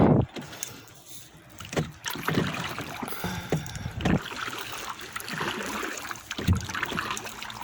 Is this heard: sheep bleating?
no